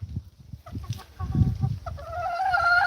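Hens cluck and murmur softly in a coop, close by, with a rising drawn-out call near the end; no talking.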